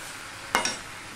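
Jackfruit and tomato curry with prawns is stirred in a pan, two quick, faint scraping clinks of the spoon over a soft simmering hiss.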